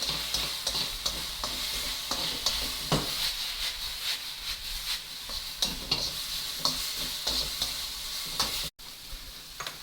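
Vegetables for a noodle dish are stir-fried in a small pan, giving a continuous close sizzle with the scrape and clatter of stirring throughout and no voices.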